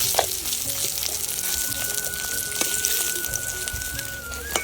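Fish paturi wrapped in bottle gourd leaves fries in a pan, giving a dense, continuous close sizzle with a few sharp spatters and no voices.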